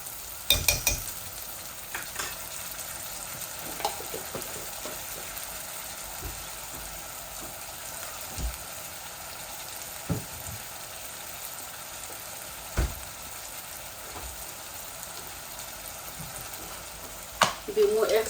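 Onion, ginger and garlic fry in a pan with a steady soft sizzle, broken by occasional stirring scrapes and clinks, with a voice talking now and then over the frying.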